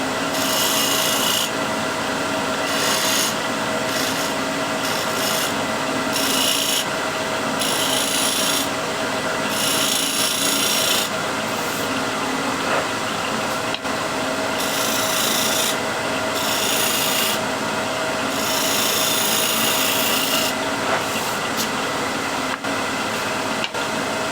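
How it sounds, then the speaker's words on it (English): Card scraper used as a shear scraper on a wooden board, a continuous close rasping rub with rhythmic strokes that rise and fall for over twenty seconds, loud and without speech. "And I'll use scraper as a shear scraper."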